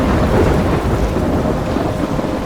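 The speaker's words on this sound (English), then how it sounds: "I'm trapped in a storm?" A heavy thunderstorm in the video game Life is Strange, with dense, loud, continuous rain and deep thunder rumbling throughout, and no voices.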